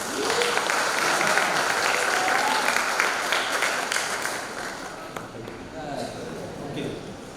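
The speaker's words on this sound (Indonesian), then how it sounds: "aku mau tepuk tangan untuk Christian" Church congregation applauding at a confirmation service, steady dense clapping filling the room throughout with some voices mixed in.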